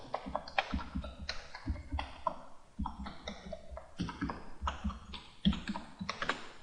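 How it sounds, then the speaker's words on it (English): A computer keyboard is typed across every letter in quick, uneven bursts of crisp close-up key clicks, with short pauses between runs and no talking. "just go straight across your keyboard and hit every letter"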